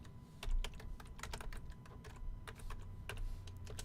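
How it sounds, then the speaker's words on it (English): Fingers type rapidly on a computer keyboard, giving a close, quick run of clicking keystrokes with short pauses and no talking. "We can type it in."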